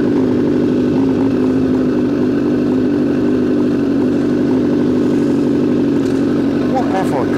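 A Suzuki Bandit cafe racer motorcycle engine drones loudly and steadily on a dyno, holding a constant rumbling pitch throughout with no pauses.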